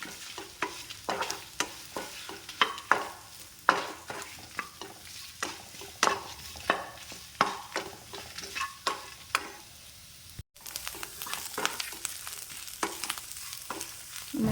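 Shallots, curry leaves and tamarind dry-roasting in a pan, with a steady run of sharp scraping stir strokes and light crackle, close and moderately loud, briefly cut near the end before the stirring resumes.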